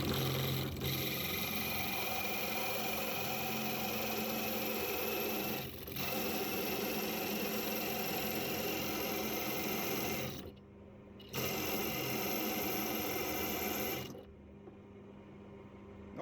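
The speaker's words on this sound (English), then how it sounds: "So just attempting to drill with a 4mm." A power drill fitted with a cheap 4mm bit grinds steadily for long stretches, with a harsh, rasping whir. It pauses briefly twice near the end before cutting back in.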